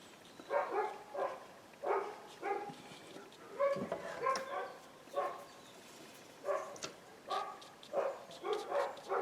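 Neighbouring dogs bark repeatedly at a moderate distance near a barn and field, with steady rhythmic barks and occasional yips carrying through an open window.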